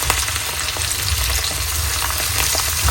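Fish sizzles loudly in oil in a pan as it is flipped with the stove just switched off; dense, continuous frying crackle, close and steady, with no voices.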